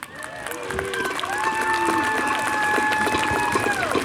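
Spectators at a Civil War reenactment muster in Jackson, Michigan cheer and clap after a main battle, with sustained vocal whoops and shouts riding over scattered applause from an outdoor crowd.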